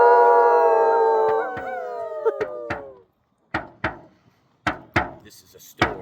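An audience at a Norse skaldic storytelling competition howls together like wolves, a loud chorus of voices imitating wolf howls that fades out, followed by sharp hand-drum strikes and knocks at uneven intervals.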